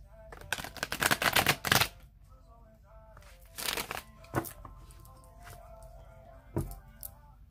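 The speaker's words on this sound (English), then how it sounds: "I'm going to shuffle it 3 more times." Quiet rustling and riffling of tarot cards being shuffled, with a few louder bursts of flicking and shuffling separated by near silence.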